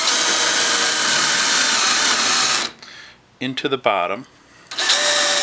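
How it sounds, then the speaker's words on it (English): Power drill fitted with a countersink bit boring into wood, a loud steady whine running about 2.7 seconds, then a pause with brief talk and a few short bursts of drilling. "I've set up my countersink bit"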